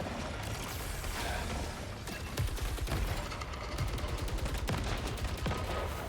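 Weapon gunfire in the video game Saros: rapid, continuous bursts of loud shots with mechanical clatter, dense and unbroken throughout, with no talk over them.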